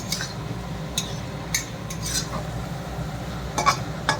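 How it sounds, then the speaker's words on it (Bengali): A spatula stirs chowmein ingredients in a pan over a strong flame, giving intermittent metallic scrapes and clinks over a low steady sizzle. "কি এই দেখুন কত সুন্দর খুন্তি চালাতে পারে"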